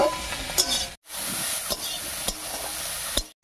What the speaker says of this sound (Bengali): এবারে চিংড়ি মাছের মাথাগুলোকে বেশ একটু লাল লাল করে ভেজে নিতে।